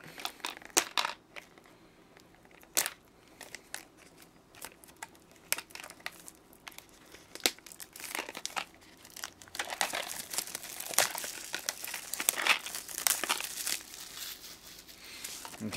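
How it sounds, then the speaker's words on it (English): Small plastic damage counter beads rattling and shifting inside a Sailor Moon collectible card game character deck box, a run of quiet, close crinkly shakes in bursts with pauses between. "Hear the little damage counter beads rattling in there."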